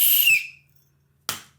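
A whistle, as given to a sleigh team in a Christmas Eve poem recitation, sounds in a bright, high burst at the start and fades out, followed by silence and a short second breathy burst near the end.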